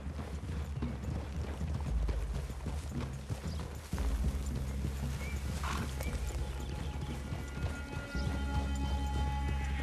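In the Red Dead Redemption II video game, horses walk at a slow clip-clop on open ground with an occasional neigh, heard under a steady bed of ambient game sound.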